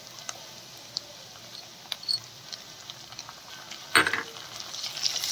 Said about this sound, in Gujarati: ડુંગળી ગાજર અને મરચાં સરસ રીતે સતરાઈ ગયા છે હવે તેમાં આપણે ટમેટા એડ કરીશું